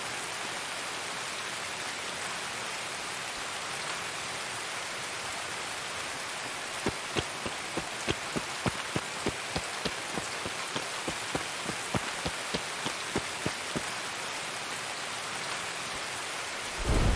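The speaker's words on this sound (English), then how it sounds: "It's raining so hard you can't see shit outside." Heavy rain pours steadily outdoors in a dense hiss, with a run of sharp drips or crackles in the middle and a low rumble of thunder near the end.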